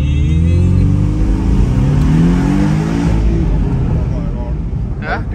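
Porsche Boxster launching hard in a zero-to-hundred acceleration run, its engine roaring loud and steady with rising revs throughout, heard from inside the cabin with voices talking over it.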